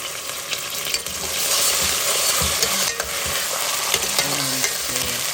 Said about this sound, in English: So now at this point, I will add the ginger and garlic.